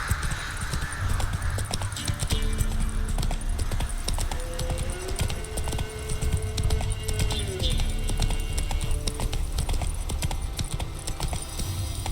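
Horse hooves galloping in The Witcher 3, a steady rapid clip-clop that runs close and continuous, blended with game ambience and a low rumble, with a brief tonal sound partway through.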